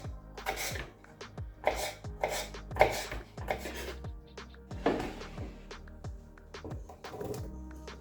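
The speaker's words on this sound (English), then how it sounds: "That's why I'm chopping it like this." Knife chopping ingredients for Nigerian jollof rice on a board, a steady series of close, crisp cuts with brief pauses, no talking.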